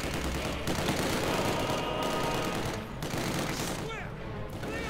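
Gunfire from German Assault Gunners counter-attacking combat engineers in the strategy game Company of Heroes 2, a dense continuous fusillade of rifle and machine-gun bursts with a few booms, loud and busy throughout with battlefield clutter.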